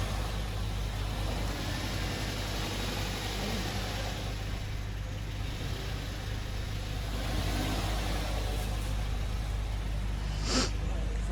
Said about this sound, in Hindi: इसका साउंड चेक कराएंगे कि कैसा साउंड है। और साउंड ही इसका ख़राब है।